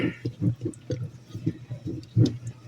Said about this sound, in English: Get this stirred up here